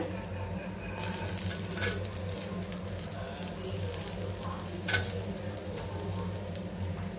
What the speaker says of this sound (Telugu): ఇందులోకి వచ్చేసి ఆనియన్స్ వేసుకుంటున్నాను నేనైతే